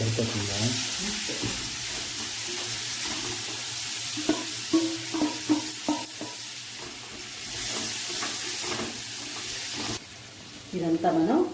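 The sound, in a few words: paneer pieces frying and being stirred in a pan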